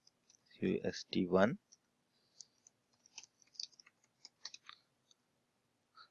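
Computer mouse buttons click in scattered single taps on software buttons, close and faint, after a brief burst of speech.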